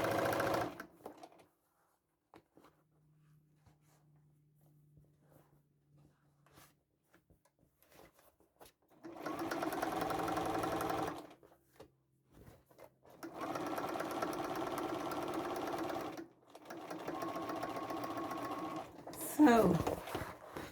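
A sewing machine top stitching a red velvet tote bag runs in several close, loud bursts separated by quiet gaps, with a brief scrape near the end.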